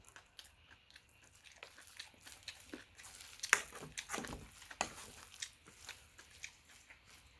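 Close, quiet chewing of bibimbap mixed with crunchy kimchi and perilla oil, with soft crunching bites and wet mashing repeating irregularly, alone without talk.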